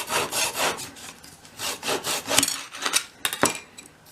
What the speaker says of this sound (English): I prefer to use my mitre block and saw rather than my handheld guillotine for this